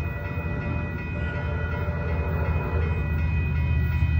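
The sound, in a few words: diesel locomotive train horn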